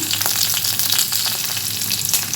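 Green chillies and curry leaves sauté in ghee with ginger for a vegetable rava kitchadi, giving a steady, close crackling sizzle with a few sharper pops, heard alone without talk.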